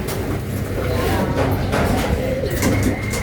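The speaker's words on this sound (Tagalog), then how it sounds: "Pumasok na mga kaibon. Ano, ang dami nang dumadaan." Pigeons arriving during a pigeon training session, with soft cooing and bird calls over a continuous noisy outdoor background.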